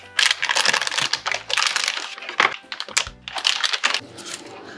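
PC motherboard being pulled from its retail box and packaging, with close crinkling plastic and papery rustles, crackles and small knocks in irregular bursts.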